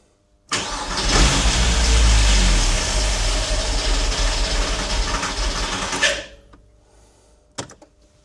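On a second start attempt, the swapped engine in a Porsche Boxster fires up abruptly and runs loud and rough at a steady level for about five seconds before shutting off, followed by a brief clunk.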